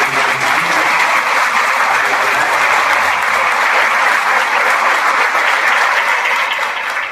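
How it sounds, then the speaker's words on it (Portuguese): A church congregation at a Sunday service in a sanctuary in Campinas applauds loudly and steadily, a dense wash of clapping from many hands that tapers slightly at the end. "Vamos aplaudir mais uma vez"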